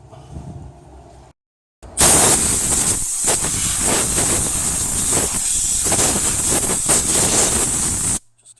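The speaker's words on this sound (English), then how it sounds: "Quick blow out of the dust before I pull the plugs out." Compressed air blasting dust out of the ECU plugs on a Mitsubishi Pajero: a loud, steady, close hiss that cuts in after a short pause and runs for about six seconds before stopping abruptly.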